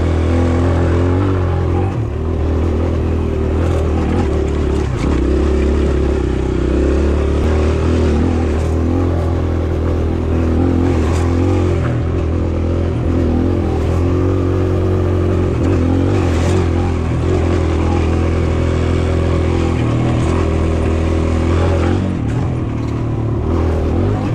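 A 2022 Kawasaki KLX140RF dirt bike engine runs loud and steady on a trail, its revs rising and falling with gear changes between second and third, close by with constant rumble.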